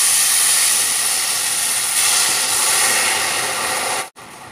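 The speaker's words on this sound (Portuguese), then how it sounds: "Açúcar derretido, caramelizado, vou adicionar meia xícara de água," Water poured into hot caramelized sugar for a pudding syrup gives a loud, steady steam hiss that holds for about four seconds, then cuts off abruptly.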